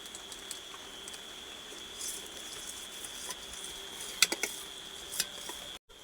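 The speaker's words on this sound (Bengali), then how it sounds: "বৃষ্টি শুরু হয়ে গেছে" Faint, steady patter of rain with a soft hiss throughout, a few slightly louder drops near the end, no voices.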